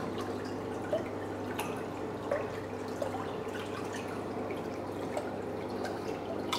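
Dripping and trickling water as cleaned parts of a restored lighter are rinsed, light irregular drips over a low steady background hum.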